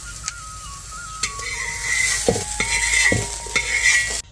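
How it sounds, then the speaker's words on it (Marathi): Peanuts roast in oil in a pan, giving a steady close sizzle with scraping stirs and a few sharp clinks of a utensil against the metal. "आता हे दाणे भाजून घेते"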